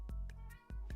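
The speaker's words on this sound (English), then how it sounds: "You'll have to tell me if you can hear my senior citizen cat" An elderly cat meows several times in a row, close and fairly loud, each call short and nasal with a brief pause before the next.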